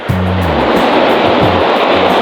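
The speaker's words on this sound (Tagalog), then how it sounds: "dulo ng isla tumbok ng alon eh ang alon ni galing sa Marindoke ito ganito kalakas" Strong surf pounds the tip of an island facing waves from the Marinduque direction at a fishing spot, a loud continuous roar of breaking water close by, with a low engine-like drone at the start and again in short bursts.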